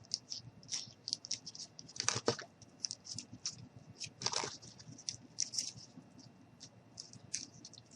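Aluminum foil is rolled and pressed by hand for a small gnome figure's arms, making a steady run of soft crinkles and pattering clicks, close and fairly quiet.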